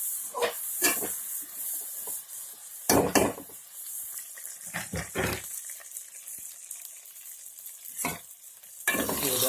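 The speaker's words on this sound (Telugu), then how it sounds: "అరటికాయ ముక్కల్ని కలుపుకుంటూ ఉండాలి, లేదు అంటే అడుగున మాడిపోతూ ఉంటాయి" Raw banana pieces are stirred in a hot pan while frying, with a steady sizzle and hiss punctuated by several louder scraping stir strokes, close and without talk.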